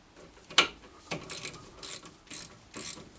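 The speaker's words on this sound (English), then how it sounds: "swapping it with an extension bar with a ratchet like that." A hand ratchet on an extension bar loosens the front brake caliper bolts of a VW Golf Mk4, giving a sharp close click burst followed by several softer, quicker ratcheting runs.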